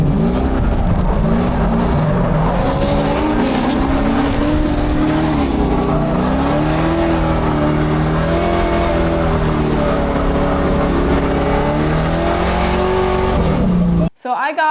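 High-horsepower drift cars run in a four-car tandem at a Formula Drift event in St. Louis, engines roaring loudly and continuously with shifting revs and tire noise, heard from inside the car, cutting off abruptly near the end.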